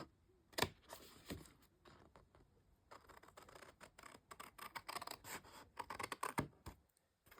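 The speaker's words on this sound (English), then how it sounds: "I'm going to cut down one of the score lines, past the little notch, that little spine bit, and then just cut diagonal" Scissors cut along a scored line in card for a handmade tag book album, a run of close, crisp snips and scraping slices with short pauses between them. No one speaks.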